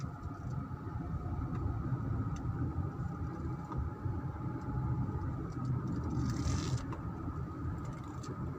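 A car driving along a narrow asphalt road near a village, a steady low engine and tyre rumble heard from inside, continuous and fairly quiet.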